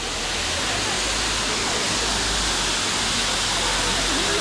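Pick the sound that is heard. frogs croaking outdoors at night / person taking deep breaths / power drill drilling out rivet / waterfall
waterfall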